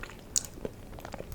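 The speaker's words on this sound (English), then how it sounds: "a little bit of crunch with a little bit of softness. The crunch from the bread and the greens" Close-up bites into a crunchy focaccia sandwich with greens, heard as one sharp crisp crunch followed by a softer chew, quiet and near with no talking.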